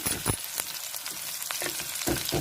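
Ingredients for horse gram gojju are sautéed in a pan, a steady sizzle heard close up, broken by a few soft stirring scrapes.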